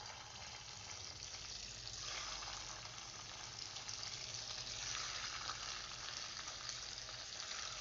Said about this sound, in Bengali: তেল গরম হয়ে গেছে, এবার আমি একে একে এগুলোকে ছেড়ে দিচ্ছি।